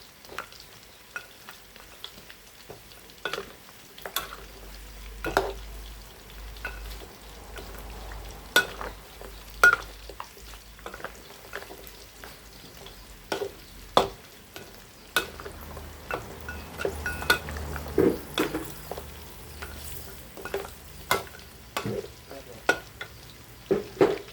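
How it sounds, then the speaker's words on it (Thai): Marinated pork ribs deep-frying in hot oil, a steady quiet sizzle with frequent clicks and knocks of stirring, close and continuous, without talk. "แล้วก็นำมาทอดค่ะ"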